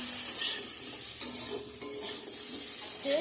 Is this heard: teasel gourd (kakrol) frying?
yes